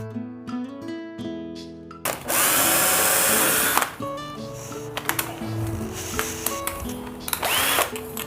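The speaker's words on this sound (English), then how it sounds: "you just drill a small pilot hole" A power drill bores a small pilot hole through a door frame at a hinge while a sagging door is repaired, with a sustained loud whine for a couple of seconds, then bursts of tool clatter and handling up close.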